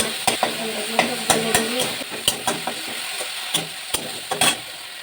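Pieces of mango soaked in hot water and chopped tomatoes go into a sizzling pan for a spicy shol fish curry, with a steady frying hiss broken by sharp clacks of a spoon stirring against the pan.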